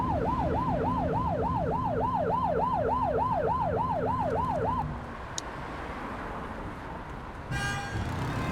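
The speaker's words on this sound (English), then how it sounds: "You're only meant to use the siren in emergencies" A police car siren from The Precinct wails in a fast, even up-and-down cycle over engine and road noise, then cuts off, leaving traffic rumble and a brief crackle of radio.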